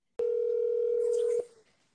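A telephone dial tone sounds right after a call is cut off, a single steady electronic beep that holds for just over a second and then stops abruptly, clear and alone.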